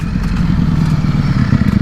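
A Ducati Streetfighter V4S motorcycle being ridden on the road, its engine a loud, constant close roar with wind rush and rumble throughout, no talking.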